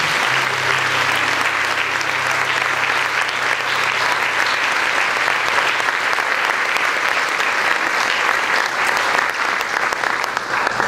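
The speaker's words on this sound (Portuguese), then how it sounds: "Vamos aplaudir Jesus." A church congregation applauds loudly and continuously, a dense sustained roar of many hands clapping throughout, with a faint low hum beneath.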